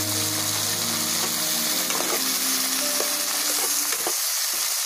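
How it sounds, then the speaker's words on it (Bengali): Onion and chili paste sizzles loudly in a hot pan for a Bengali-style fish curry, a dense steady frying hiss broken by the scrape and clatter of a spoon stirring it, with no voices. "এর সাথে আমি পেঁয়াজ ও লঙ্কা যে পেস্ট করা আছে সেটা মিশিয়ে দেবো।"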